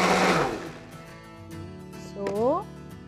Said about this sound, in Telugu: లిడ్ క్లోజ్ చేసి మిక్సీలో జ్యూసింగ్ చేద్దాం.